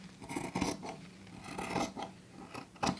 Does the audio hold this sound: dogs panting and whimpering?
no